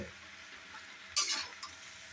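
Turmeric with cumin and coriander powder being stirred in a cooking pan, a short sizzling scrape of the spatula rising briefly over a quiet kitchen background.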